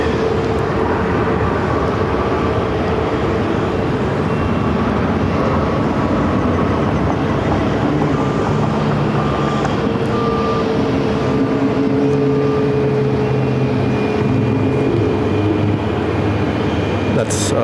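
A Boeing 737-800 airliner arriving at Phoenix airport from Los Angeles, a loud continuous jet engine roar holding steady throughout, with people talking underneath.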